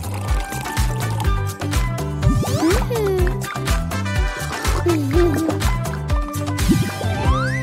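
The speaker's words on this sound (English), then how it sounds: "Press down and pour something sweet to drink." Sweet drink poured into a tiny toy doll cup, a bright trickling, splashing stream with rising fill tones, heard close and fairly loud alongside light clinks and handling noises, with no voices.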